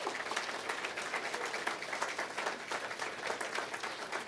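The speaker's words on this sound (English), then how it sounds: "if we could give them a round of applause" An audience applauds steadily, a dense wash of many hands clapping at moderate distance without letup.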